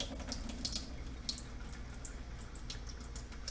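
Filtered water draining out of a can of rinsed canned peas, a steady close splashing trickle with small drips, running alone throughout.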